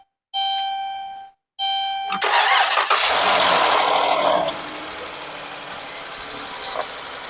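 A 3.6L Pentastar engine on a Grand Caravan cranks with a couple of dinging chimes first, then fires up loudly and settles into a steady idle, close by with no talk.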